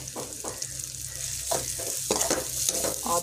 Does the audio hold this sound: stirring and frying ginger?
yes